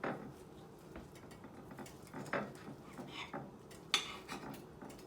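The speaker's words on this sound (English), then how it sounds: "I'm going to slice it and see how it come out" A knife slices through a roasted turkey breast cooked in a Power XL air fryer, giving soft scraping strokes and light clatter against a plate or board, close and moderately quiet.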